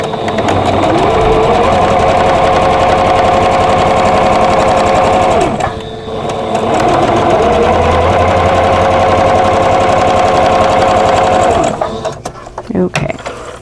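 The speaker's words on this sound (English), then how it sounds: "I'm going to sew from the center to the bottom right corner" Sewing machine stitching a quilt block seam, a loud close mechanical whir with rapid rhythmic clatter, running in two long bursts separated by a brief pause, then stopping with a few handling clicks.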